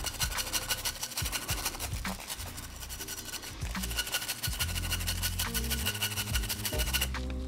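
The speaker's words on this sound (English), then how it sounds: "you can take your brush, do a little scrub" A small cleaning brush scrubs briskly inside a PSA Dagger pistol, rapid rasping back-and-forth strokes close up and continuous, with metallic scratching and scraping throughout.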